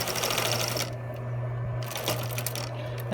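Sewing machine stitching a medical mask cover, a fast continuous mechanical chatter that briefly eases and then resumes, close and steady over a low motor hum.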